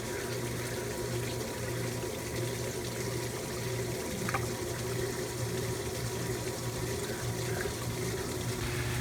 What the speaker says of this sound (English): So now it's just about done with the spin cycle. Still emptying all the water out of it.